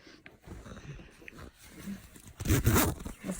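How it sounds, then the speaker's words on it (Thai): A sleeping bag zipper is pulled up in an ice hotel room, a short rasping burst that grows loud near the end after quieter rustling and handling sounds. "รูดซิปขึ้นไปด้วย"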